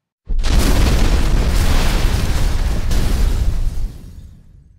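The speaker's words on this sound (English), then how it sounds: "Why did it just explode?" An explosion in the Roblox video game sets off a sudden loud boom with a sustained roaring blast that holds for several seconds and then trails off into a fading rumble, heard alone.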